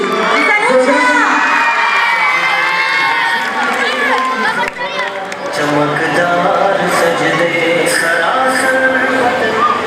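A loud school audience at Al Rehan Model Academy cheers, shouts and whoops to welcome a young woman to the stage, a dense, continuous roar of voices with children's shouts.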